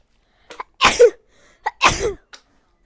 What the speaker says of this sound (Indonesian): Sekarang-sekarang aku tuh suka bersin.